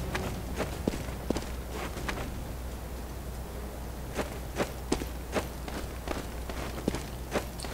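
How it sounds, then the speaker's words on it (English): Footsteps in the Counter-Strike: Global Offensive video game, a series of sharp separate steps in irregular bursts over quiet background ambience. "And remember, listen for footsteps."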